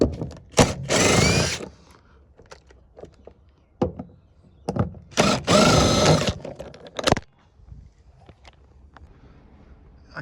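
A power driver backing screws out of an interior grab handle in a Subaru Impreza RS, two separate loud whirring bursts a few seconds apart with quieter clicks, knocks and handling noises between them.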